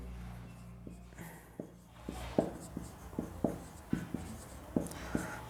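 Chalk or marker writing on a board during a Hindi-language physics lecture on electric charge from friction, heard as a string of short taps and scratchy strokes at close range, fairly quiet over room hum.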